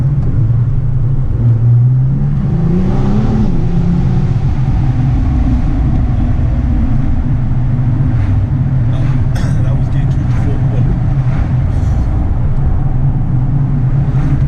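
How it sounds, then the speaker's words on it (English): A Nissan GT-R R35 accelerates, its exhaust giving a loud, deep droning rumble heard from inside the car, rising in pitch early on and holding steady, with someone speaking briefly over it. "Oh, this exhaust is on next level."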